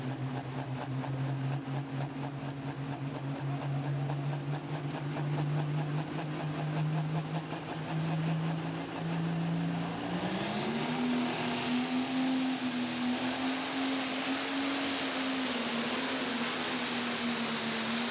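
Pro Stock pulling tractor at an NTPA tractor pull in Chapel Hill, Tennessee, its engine droning loud and steady for the whole stretch, then surging higher in pitch as it revs and a rising whine joins partway through.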